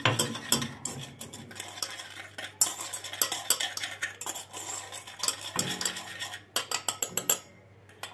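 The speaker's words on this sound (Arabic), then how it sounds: "غادي نخلطو النواشف" Cocoa and sugar being mixed in a bowl with a spoon, quick irregular clinks and scraping strokes of cutlery against the bowl, close and alone, with brief pauses between bursts.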